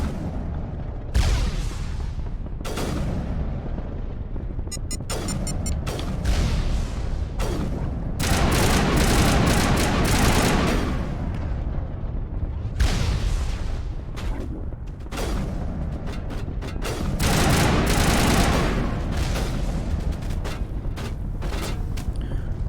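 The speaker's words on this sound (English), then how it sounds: "Also need to switch my grenade launcher to high explosive." High-explosive grenade launcher fire and blasts in Mass Effect Legendary Edition combat, a long stretch of heavy booming explosions and rattling gunfire, loud and continuous with repeated sharp impacts throughout.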